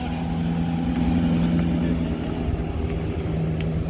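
A Maserati coupe rolls slowly through a downtown street, its engine a low steady hum that swells gently and fades under the wider traffic noise, moderately close.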